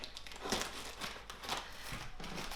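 Polystyrene packing being cut and pulled away from a solid-body bass ukulele, giving soft, close crinkling and crackling in uneven bursts at a low level.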